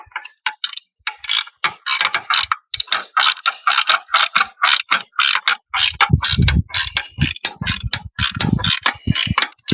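A ratchet tightens a fishing pole holder mount onto an e-bike, a loud close run of rapid rhythmic clicks in steady strokes, growing heavier toward the end.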